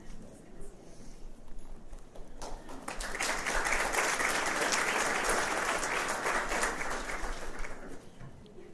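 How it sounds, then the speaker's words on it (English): An audience at a college of pharmacy scholarship ceremony applauds the 2013 scholarship recipients and their donor, a dense, steady round of clapping that swells after a couple of seconds and then holds, heard from within the room. "Give these wonderful scholars and our donor a round of applause."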